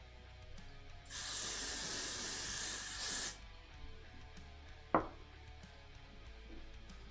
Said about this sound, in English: Maybe I should just hairspray my head every time I get too hot on stream.